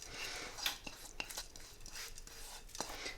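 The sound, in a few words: stirring pilau rice in a pot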